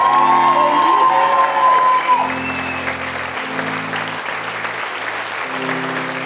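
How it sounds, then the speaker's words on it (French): Audience applause and cheering at a cabaret show marking 30 years, a sustained crowd of clapping with whoops, under sustained musical tones and some voices. "Un tonnerre d'applaudissements aussi pour toutes les petites mains qui ont su faire de ce spectacle et de ces 30 ans un très beau moment"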